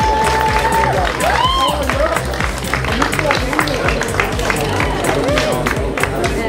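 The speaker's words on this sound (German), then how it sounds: "So, tollen Applaus noch einmal für alle drei." Outdoor crowd applause and cheering for the top three finishers at a city run award ceremony in Dessau, with voices and babble mixed in.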